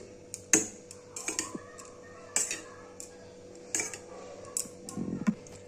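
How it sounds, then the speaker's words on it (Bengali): A spoon stirs and mixes ingredients in a bowl for a vegetarian veg roll filling, giving a few sharp clinks and scrapes at an uneven pace, fairly close and moderately quiet, with no talking. "একটা চামচ দিয়ে দেখো সমস্তগুলোকে একসাথে ভালো করে মিক্স করে নিচ্ছি"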